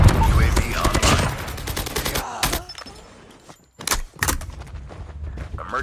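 A called-in strafe run in a shooter game brings rapid, loud bursts of gunfire with heavy thumps, a brief lull, then more bursts and scattered shots.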